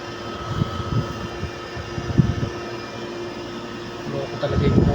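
Window-type air conditioner compressor running while switched off, a low steady hum and rumble beneath intermittent talking.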